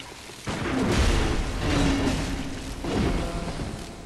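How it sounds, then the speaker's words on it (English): A loud boom-like gunshot blast in Bloodborne, used to parry an enemy, followed by further heavy impacts and rumbling action noise, fairly dense and close. "This guy, you can parry him with a gunshot."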